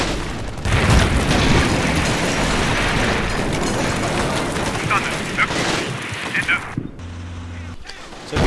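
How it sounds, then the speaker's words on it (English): Artillery shelling and gunfire in Combat Mission, a Normandy-era battle: a continuous loud roar of booming impacts and crackling shots fills most of the clip, then cuts to a brief low tone near the end. "So here's where we're shelling and shooting."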